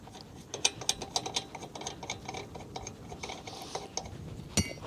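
Wheel nuts come off a caravan wheel as a series of sharp metallic clicks and ratcheting taps, spaced irregularly and close by, with a louder clank near the end and no talking.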